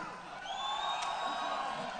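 A concert crowd on Manik Mia Avenue in Dhaka cheering and whooping for a band, a broad sustained roar with shrill whistles and shouts rising over it, steady and somewhat distant.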